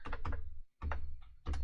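Someone types on a computer keyboard while entering a terminal command, in quick clattering bursts of keystrokes with short pauses between them, close and clear, with no talking.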